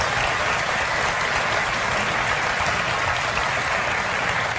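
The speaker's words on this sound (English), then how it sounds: "Wasn't that resounding an applause for her?" A studio audience on a late-night talk show applauds, a dense, loud, steady wash of clapping that fills the whole stretch without a break.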